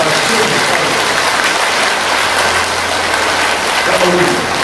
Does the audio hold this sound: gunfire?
no